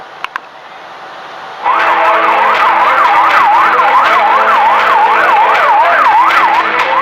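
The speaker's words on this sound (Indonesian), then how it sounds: "Ambulans terus berdatangan ke Rumah Sakit Indonesia di Bait Lahia, Gaza Utara" Wailing ambulance sirens sweep up and down in a steady rising-falling cycle, loud and close, as ambulances arrive at the Indonesian Hospital in Beit Lahia, northern Gaza, after a brief quieter lead-in with a couple of knocks.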